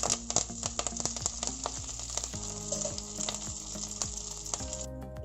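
Curry leaves dropped into hot oil with lightly browned chopped garlic in a kadai, a loud, steady frying sizzle spattered with sharp crackles and pops, close up and without talk.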